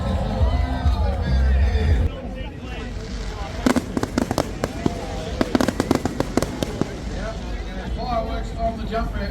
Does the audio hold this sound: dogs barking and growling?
no